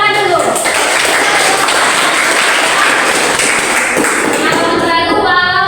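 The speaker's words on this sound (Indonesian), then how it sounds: "Tepuk tangan dulu." Loud, steady clapping from a school audience during a classroom-practice event, a dense crackle holding for several seconds with voices talking over it.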